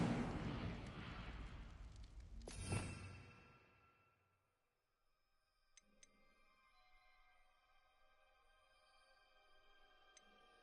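An Incendio fire spell cast in Hogwarts Legacy lands as a loud fiery burst with a sharp crack, then fades over a few seconds into quiet game ambience with faint ticks.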